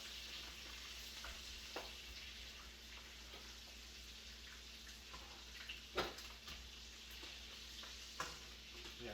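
Pork chops sizzle in a pan with butter basting, a faint steady frying hiss broken by a few sharp spits and clinks of a utensil against the pan.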